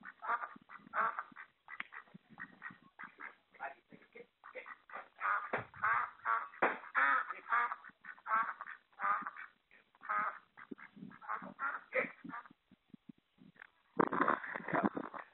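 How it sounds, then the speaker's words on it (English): Duck quacking in the background of a phone call, a run of irregular nasal bursts and squawks of varying loudness, heard thin and narrowband over the line, with a louder burst near the end. "Is that a duck?"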